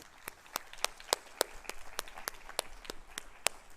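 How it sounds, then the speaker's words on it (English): Sparse, slow claps from a small audience at a school board awards celebration, about a dozen distinct sharp claps spaced evenly over a quiet background. "One last round of applause."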